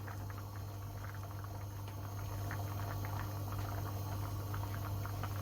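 Green lentil stew simmering in a pot on the stove, a faint steady bubbling and soft popping over a constant low hum.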